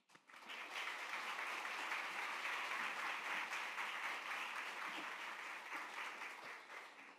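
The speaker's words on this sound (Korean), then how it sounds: "목사님 나오실 때 귀한 목사님 보내주신 하나님께 감사의 박수로 올려드리면 좋겠습니다" A church congregation at Sunday worship applauds, a dense, even wash of clapping from many hands that rises quickly, holds steady for several seconds and then fades slightly.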